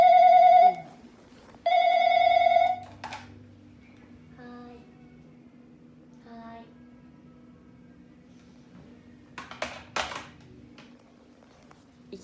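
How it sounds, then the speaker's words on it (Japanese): A telephone bell rings loudly in two bursts close by, followed by soft speech and quiet clatter in a room. "いきなりのお電話。"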